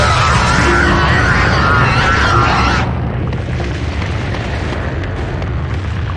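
A fire spell cast in a Harry Potter video game erupts in a loud, sustained roaring burst that holds steady for nearly three seconds, then drops to a lower, rumbling crackle that continues to the end.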